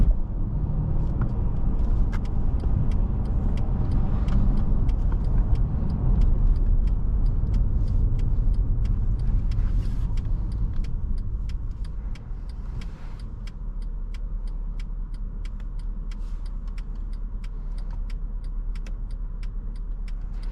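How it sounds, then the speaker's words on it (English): A 2017 Mercedes-Benz CLS 550's V8 drones steadily from inside the cabin during a test drive, with constant road rumble and faint rattles; the engine eases off partway through. No talking. "that V8 sounds phenomenal"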